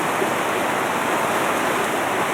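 A small stream pours over a shallow rapid, giving a close, continuous rushing wash that holds steady throughout with no voices.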